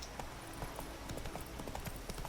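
Horse hooves clip-clop in a steady trotting rhythm while riding through The Witcher video game, fairly close and continuous over game ambience.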